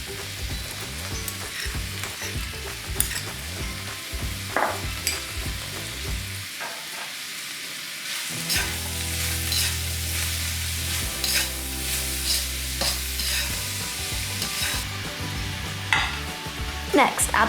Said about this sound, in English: Then add in the chopped peppers, chilli and garlic and fry for a couple more minutes.